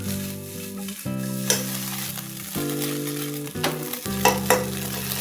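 Eggs frying in a pan for green chili mie goreng, giving a crackling sizzle with bursts of stirring, heard under steady background music with no talk.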